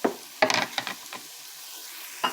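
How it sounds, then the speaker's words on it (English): Asparagus stir-fried over high heat in a pan, short scraping stirs and sizzling bursts, close and intermittent with quiet pauses between. "Stir fry like that, high heat, because this asparagus,"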